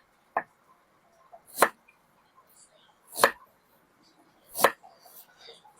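A knife chops ingredients on a board, four sharp, separate strikes spaced over a couple of seconds each, close and crisp against a quiet background.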